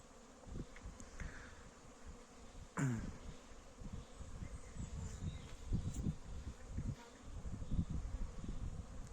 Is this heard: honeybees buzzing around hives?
yes